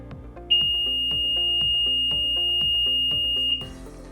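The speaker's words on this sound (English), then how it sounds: "then we will get to hear the end of period alarm go off" Hands-free DC-25T end-of-period alarm timer for busy industrial environments sounds a single loud, steady high-pitched tone lasting about three seconds, over a repeating musical background.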